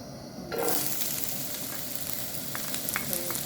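Chopped onion hits a hot pan for a stir fry and breaks into a loud, steady sizzle after a brief quiet start, with scraping stirs near the end and no talking.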